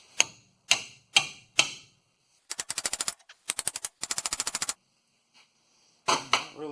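Loud metal-on-metal strikes from a big chisel hammered against a stuck axle on a 2008 Ford F-150 8.8 rear differential: four single heavy blows, then two rapid rattling bursts of fast impacts, a pause, and a final ringing hit.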